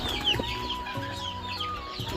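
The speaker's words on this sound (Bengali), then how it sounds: "আমি বাড়িতে কিছু দেশি মুরগি এভাবে ছেড়ে পালন করে থাকি।" Free-range native country chickens cluck around a home yard, with close, overlapping clucks and short calls in a continuous busy chatter.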